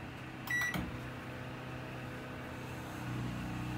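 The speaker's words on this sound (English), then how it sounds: "Inside, we'll go ahead and hit the microwave." A microwave oven powered by a Westinghouse WGen3600DF dual-fuel generator beeps at its keypad and then starts with a clunk. Its steady hum carries on, and a faint swell later suggests the generator revving up under the load.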